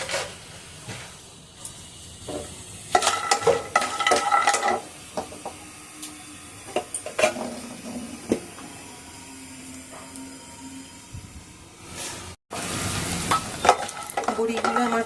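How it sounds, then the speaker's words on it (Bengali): Lentil dumplings (bori) frying in hot oil in a pan, with a constant sizzle broken by clattering spoon-and-pan stirring bursts and scrapes, close up, with a brief cut near the end. "প্রথমে আমি বড়িগুলো ভেজে নেব।"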